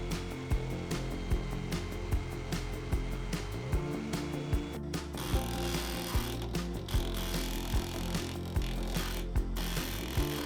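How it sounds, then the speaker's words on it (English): A belt sander rounds a wooden bowl blank before lathe turning, a loud, steady abrasive grinding that pulses about every half second, with a low droning hum beneath it. "then use the belt sander to get it closer to being round."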